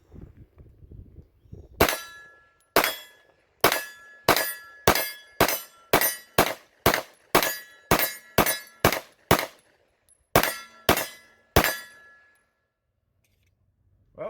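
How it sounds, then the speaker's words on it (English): Springfield Prodigy 9mm pistol firing a long string of sharp, loud shots with brief, slightly uneven gaps between them, a short pause partway through, then a few more rounds; no talking over the shots. "let's get loaded up, do a little shooting. This is my first shots on this gun."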